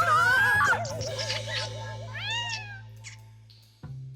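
A cartoon cat meows in the Hello Carbot animated series: a few clear, high, wavering meows over a steady low hum, fading toward the end before a short burst of music-like sound.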